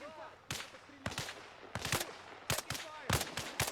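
Video game gunfire: several sharp, loud shots and short bursts arriving in irregular clusters, close and punchy, with faint voice fragments in the background.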